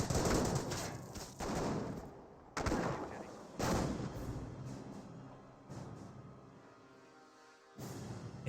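A British Bren gun squad in Company of Heroes fires repeated loud bursts of light machine gun fire, each crack-laden burst separated by short gaps, with faint battlefield ambience between volleys.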